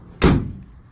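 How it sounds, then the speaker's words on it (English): A single solid thud as a truck cab door swings shut, close and heavy, with a short dull decay into the cab's quiet. "door closed."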